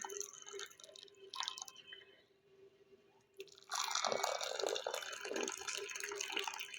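Herbal kahwa (joshanda) pours from a kettle into cups, a close, steady liquid stream that starts softly with light drips, pauses, then swells into a louder, sustained splashing pour for the last few seconds.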